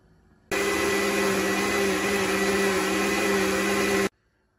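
A kitchen blender grinds two tomatoes and a piece of onion, starting abruptly into a loud steady whirring hum that runs about three and a half seconds, then cuts off.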